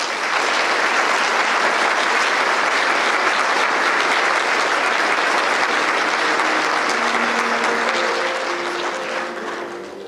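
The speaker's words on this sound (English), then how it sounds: "How about another round of applause, ladies and gentlemen?" A large audience at a chamber of commerce annual event claps continuously, dense and loud throughout, easing slightly near the end, with faint voices beneath.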